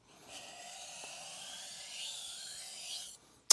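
A knife blade strokes steadily across a 1000 grit whetstone, one long continuous gritty rasp lasting about three seconds at close range, followed by a brief sharp knock at the end.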